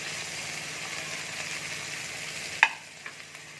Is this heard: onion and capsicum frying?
yes